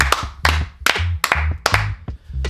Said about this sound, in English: Give him a golf clap